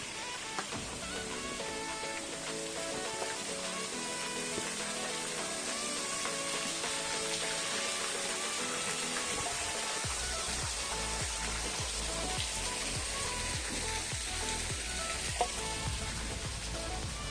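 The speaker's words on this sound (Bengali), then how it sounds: "এখানে একটা ছোট ঝর্ণা রয়েছে।" A small waterfall on Chandranath Hill near Sitakunda, Chittagong, giving off a steady, even rush of falling water that carries on without a break and without any talking.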